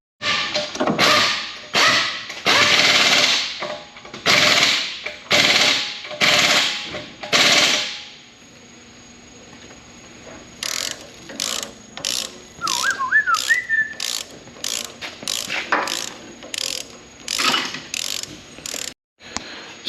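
A hand tool works loose the shock absorber nut on a Cadillac that rides rough. Several loud, rapid mechanical bursts come first, then a lull and a steady series of sharp ratchet clicks with a brief squeak, close up and with no talk.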